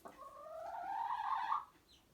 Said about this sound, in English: So these are laying hens.